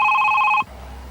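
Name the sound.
telephone ringing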